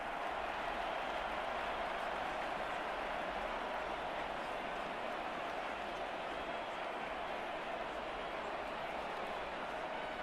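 A dense, continuous roar of a stadium crowd fills the dome in a college football video game, steady and loud throughout with no breaks, the roar spread wide like a packed arena.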